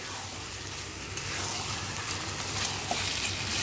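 Mutton kosha cooking in a kadai, giving a dense, steady close sizzle throughout with no voices.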